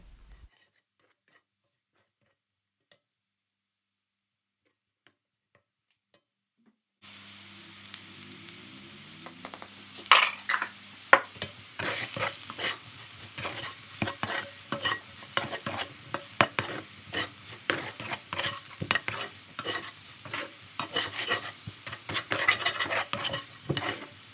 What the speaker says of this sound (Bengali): তারপর কিছু নাড়াচাড়া দিয়ে যখন হলুদটা একটু ভাজা ভাজা করে মিশানো হয়ে যাবে আলুর সাথে